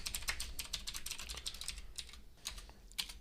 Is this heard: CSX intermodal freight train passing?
no